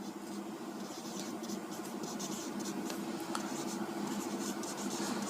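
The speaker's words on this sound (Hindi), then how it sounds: "तो कुछ महत्वपूर्ण पॉइंट हैं, कुछ बिंदु हैं, उन्हें लिख देता हूँ मैं।" Pen writing down notes on paper, a soft continuous scratching with quick strokes and taps, close and fairly quiet, with no talking.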